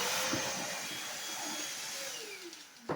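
A Bissell 3in1 turbo vacuum cleaner runs with a steady, loud motor roar and high whine throughout, its pitch sliding slightly, ending in a brief clunk.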